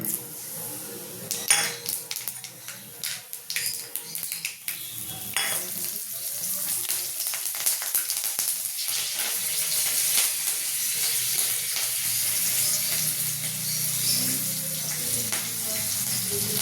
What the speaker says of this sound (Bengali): তেল গরম হয়ে গেছে, আমি দিয়ে দেবো এবারে কাঁচা লঙ্কা, কালো জিরে